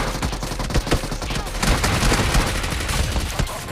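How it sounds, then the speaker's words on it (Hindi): Rapid bursts of PP-Bizon submachine gun fire in the BGMI mobile battle royale game, loud and dense, with shots crackling in quick clusters throughout. "अब मैं तुमको दिखाता हूँ कि बाइजन भाई क्या ही तबाही गन हो गई है"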